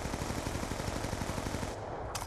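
Rapid automatic gunfire from Black Ops 2, fired through a wall in multiplayer, rattles in a dense, loud burst for nearly two seconds before cutting off, followed by a short sharp click.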